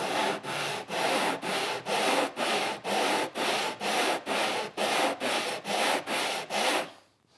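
Board end sanded by hand on 100-grit sandpaper to remove jigsaw blade marks, heard as about fourteen steady, evenly spaced long rasping strokes, close and loud, with no talking.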